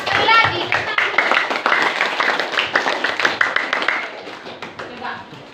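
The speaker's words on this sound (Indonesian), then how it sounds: "Oke, tepuk tangan dulu." Students in a classroom clap their hands after a group presentation, a loud, ragged patter of individual claps that gradually thins out, mixed with children's chatter.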